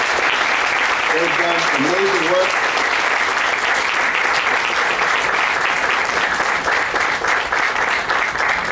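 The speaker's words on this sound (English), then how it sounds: "If you can give them a round of applause" Sustained applause from a seated audience at a September 11 memorial ceremony, steady and dense for the whole stretch, with someone speaking over it briefly near the start.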